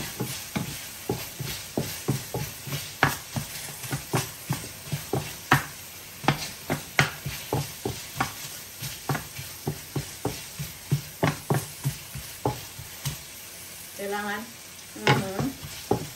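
Onion, garlic and ginger frying in a pan for a beef stir fry, with a steady sizzle and repeated scraping stir strokes against the pan, close and continuous, plus a brief clinking near the end.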